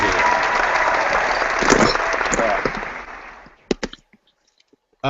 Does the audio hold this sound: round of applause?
yes